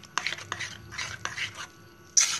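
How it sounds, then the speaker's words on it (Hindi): Baking powder is mixed into a wheat flour batter: a spoon scrapes and taps against a bowl in quick bursts, close and fairly loud, ending with a brighter clink. "अब हम इसमें बेकिंग पाउडर ऐड करेंगे और इसे भी अच्छे से मिक्स कर लेंगे हम।"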